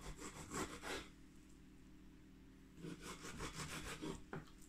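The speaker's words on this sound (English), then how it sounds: "If I follow this line here, then where my knife is lying is where I want to trim it." A knife slicing along a raw trout to trim away the belly, with soft rasping cutting strokes in two bursts separated by a quiet pause, close and faint.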